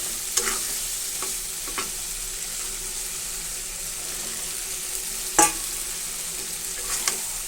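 Eggplant stirred into a pan of cooking potatoes and shrimp, a low steady sizzle with a few scraping stirs and one sharper clatter near the middle, heard close with no talk.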